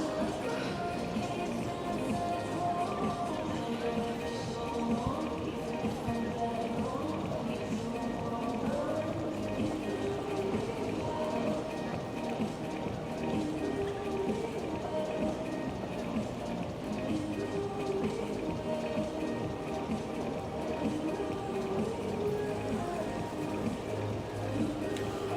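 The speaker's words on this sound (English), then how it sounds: "Unfortunately, nobody is ice skating tonight because it is so rainy." Rain falls on a street in Midtown Manhattan near a winter ice rink, making a steady, soft hiss and patter that stays even and fairly faint, with a few louder splashes.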